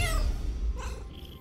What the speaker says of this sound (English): Oh, I can meow.